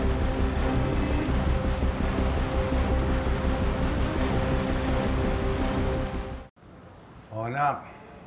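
Steady rushing water of a river current, loud and continuous for about six seconds, then it cuts out abruptly and a voice speaks over a quiet background.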